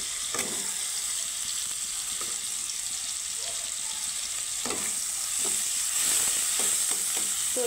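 Onions frying lightly in a pan sizzle steadily and fairly close, with occasional scrapes and taps of stirring breaking through the hiss; no one speaks.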